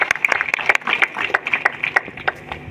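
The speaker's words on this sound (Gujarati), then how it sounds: "જોરદાર તાળીઓથી આપણે વધાવીએ એમને." At a Viksit Bharat Sankalp Yatra gathering in Pasvala village, an audience claps together in brisk, uneven applause for a short burst, close and fairly loud.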